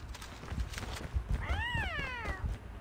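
A cat meows once in a drawn-out, rising-then-falling call inside the mobile shooter Call of Duty Mobile, heard close and clear over steady game noise and footsteps.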